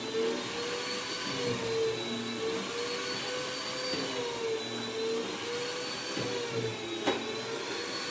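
A small inexpensive kitchen slicing machine whirring steadily while cutting beef for carpaccio, a constant motor hum with a faint pitch wobble and a brief click near the end, no voices.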